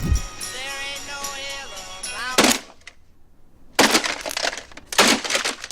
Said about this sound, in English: Smashing the alarm clock wasn't as easy as it looks.